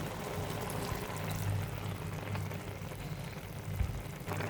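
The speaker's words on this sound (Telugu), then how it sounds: "ఉడికిపోయిన తర్వాత చింతపండు నీళ్ళు వేసేసుకోండి." Tamarind water being poured into a simmering okra curry, a steady liquid pour with a faint sizzle and bubbling from the pan, close and continuous without a break.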